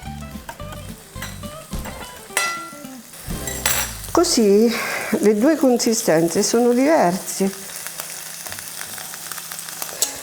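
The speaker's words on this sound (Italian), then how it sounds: "Cominciano a friggere adesso." Asparagus frying sizzles steadily in a pan in the background while a person speaks over it, with a few metallic clinks of utensils near the start.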